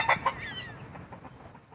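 Two chickens cluck in a few quick, close bursts at the start, then fade into faint scratchy background noise.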